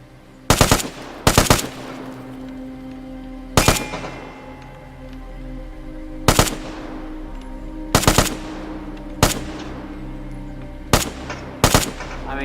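Gunfire in the video game Vigor: short bursts of automatic weapon fire, about nine separate loud volleys spaced irregularly, each with a ringing decay, between quieter pauses.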